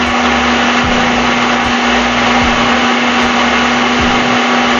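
A mixer grinder blends apricot chutney, a loud, steady high-speed motor whine with dense whirring that runs unbroken for the whole stretch, with no talk.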